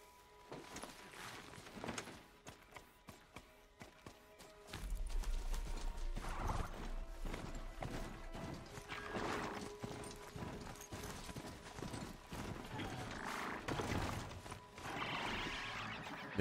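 A horse gallops and whinnies in the video game Horizon Zero Dawn, with rapid rhythmic hoofbeats building from light steps to a loud, sustained run, punctuated by neighs.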